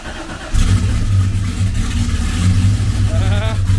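A car engine fires up after fuel injection work, catching at once and settling into a loud, steady low rumble that runs with the throttle slightly raised, close to the listener.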